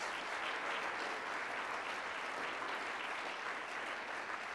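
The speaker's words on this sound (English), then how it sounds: "Give them a round of applause" An audience at a university green education celebration gives a sustained round of applause, a dense, even roar of many clapping hands, moderately distant and steady for several seconds without speech.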